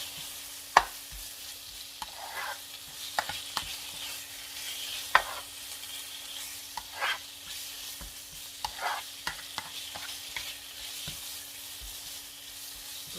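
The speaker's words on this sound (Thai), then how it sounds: "จะผัดหมูให้สุกก่อนนะคะพี่น้อง" Marinated pork stir-fried in a pan, a steady sizzle broken by scattered clinks and scrapes of a spatula, close and alone without talk.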